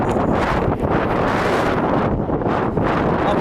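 Strong coastal wind buffets a Sony RX10 IV camera microphone beside big white-capped waves, producing a loud, continuous roaring rumble with gusty surges and no speech.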